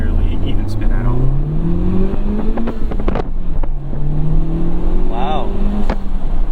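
A Honda Civic Type R FL5 with a full bolt-on setup and a Stage 2 Hondata tune accelerates hard from inside the cabin, its engine note climbing steadily through gear changes over wind and road noise while people talk.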